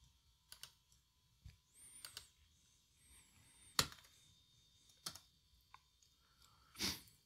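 Scattered keystrokes on a computer keyboard from 1994 come as sparse, irregular clicks with short pauses between them, faint against a quiet room.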